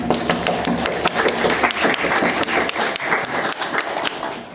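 Audience applause follows a panel discussion on EU values, a steady round of many hands clapping at close range, dense and even throughout, with no talk over it.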